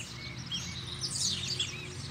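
A coleiro (double-collared seedeater) songbird sings bright, high chirps and rapid twittering phrases in the open, clear and fairly close over a faint low background rumble.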